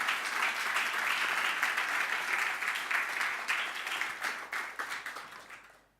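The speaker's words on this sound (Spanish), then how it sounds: "dale un aplauso al Señor." A church congregation applauds in worship, loud sustained clapping with cheers that thins and fades toward the end.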